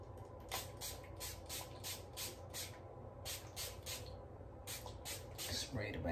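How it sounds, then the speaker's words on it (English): Hair spray hisses from a can onto the back of a headband wig in short repeated bursts, several quick sprays in a row with brief pauses between them, close to the microphone. "Spray the back of it."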